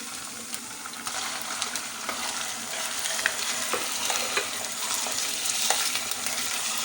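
Beef frying in a pan with ginger and garlic for a bhindi gosht, giving a steady, loud, close sizzle with occasional stirring scrapes throughout and no talk.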